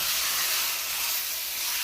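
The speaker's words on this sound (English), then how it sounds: "you wanna let these just slowly just saute in the pot on medium heat" Chicken breast pieces sauté in a pot over medium heat, giving a steady, loud hiss and sizzle that continues without a break, close up, with no voices.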